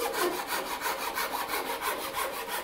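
A wooden block clamped to a table being cut with a hand saw: quick, even back-and-forth strokes, close and steady, with no voices.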